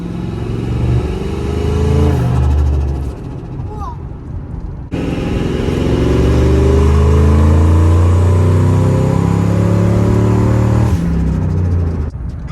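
A 2003 Ford F-150 with a turbo revs hard and accelerates, its engine pitch climbing in rising sweeps and cutting out between runs, loud and close, with people talking over it.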